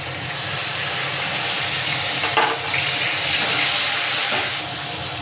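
Ground spice paste hits hot oil in a wok and fries with a steady, loud, broadband sizzle that holds for several seconds, with faint scraping or stirring touches near the middle.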